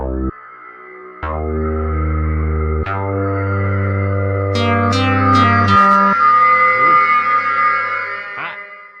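A sustained, heavily reverberant guitar drone through a Hotone Verbera convolution reverb pedal, with shifting, chant-like harmonic tones that swell and shimmer, loud and close, with no voices.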